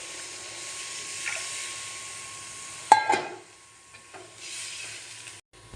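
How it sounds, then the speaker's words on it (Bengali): Water poured into a pan of sautéed spice paste for a Bengali fish curry sets off a loud sudden burst of sizzling and steam hiss. Softer frying and stirring noises come before and after it, with no talk. "আমি এবার এর মধ্যে জল ঢেলে দেব।"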